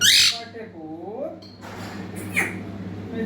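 A baby parrot squawks in a harsh burst, then gives wavering, voice-like chirps as it tries to talk, close and fairly loud against a steady low hum.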